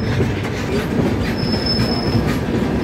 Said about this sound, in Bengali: আমাদের ট্রেন সামনের লাইনে কাজ চলাকালীন অন্য লাইনে আমাদের ট্রেনকে ট্রান্সফার করা হচ্ছে।